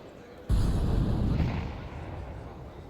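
A grenade goes off in a Counter-Strike ESL Pro League match as one sudden, heavy low boom that rolls on and slowly fades, sitting under faint background noise.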